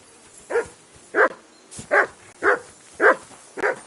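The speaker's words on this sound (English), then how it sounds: "call off that dog and then we can talk" A dog barks in the video game Kingdom Come: Deliverance, six sharp, close barks spaced evenly about half a second apart, with no voices over them.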